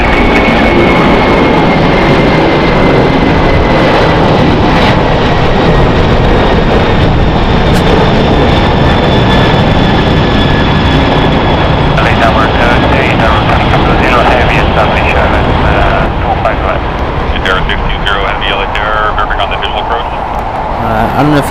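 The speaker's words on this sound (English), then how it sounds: "as that 747 was departing" A Boeing 747 departing LAX produces a loud, continuous broadband jet roar that holds steady throughout, with a faint high whine gliding slowly downward.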